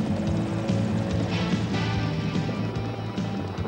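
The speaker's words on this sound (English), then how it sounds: "the Mini 500 exceeds the standards for commercial helicopter auto rotation, as demonstrated by this hovering auto." A Revolution Mini 500 ultralight helicopter hovering and performing an autorotation, a steady low rotor and engine drone with a pulsing hum, fairly loud and with no talk over it.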